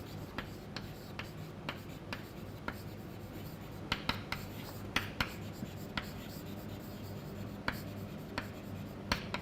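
A lecturer writes equations on a board, with steady scratchy strokes and light irregular taps from the writing tool, close and soft over a faint room hum.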